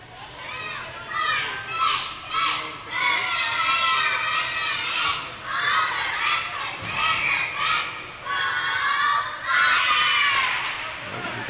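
A cheering squad of young girls shouts and chants in repeated high-pitched bursts at a women's hockey game, close by and lively, with excited children's voices rising and falling throughout.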